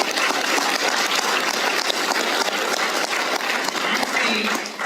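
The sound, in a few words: round of applause for the team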